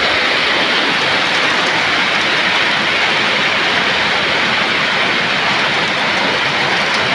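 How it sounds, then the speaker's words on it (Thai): Heavy storm rain pours down steadily in rural northeastern Thailand, a dense, loud and unbroken roar of water throughout, with no voices over it. "โอ้โหฝนดีขนาดครับฝนมาแล้วครับ"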